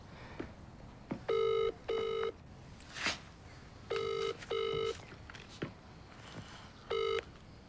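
An outgoing phone call rings unanswered, giving repeated pairs of electronic ring tones with gaps between them, loud and clear over faint room noise.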